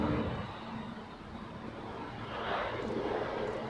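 An airliner touching down at Zurich Airport, a broad distant engine roar and rumble that swells slightly toward the end, heard alone outdoors.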